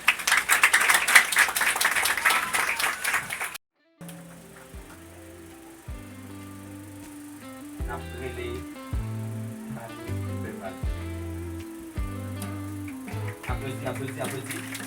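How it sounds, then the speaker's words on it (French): An audience at a graduation ceremony claps loudly and densely for a few seconds. The applause stops abruptly, and music follows. "Applaudis."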